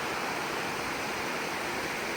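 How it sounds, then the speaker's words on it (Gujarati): Water of the Kalobhar river at Umrala pours over a dam in a steady, dense roar, continuous and fairly near, with no voices over it. "ડેમ ઉપરથી પાણી વીવું જાય છે"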